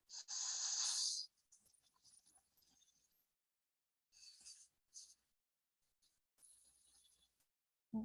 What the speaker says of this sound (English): you breathe in, and it creates like a little bit of a sound, just like almost like a snore